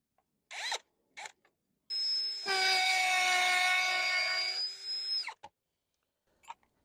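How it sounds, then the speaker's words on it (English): A power drill bores into a concrete wall to mount a flood-resistant dryer vent, with a few short bursts followed by one long, loud, steady whine lasting a few seconds. "And now what we're going to do is drill into the concrete and get this thing affixed."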